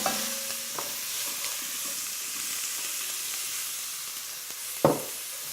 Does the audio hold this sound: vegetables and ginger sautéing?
yes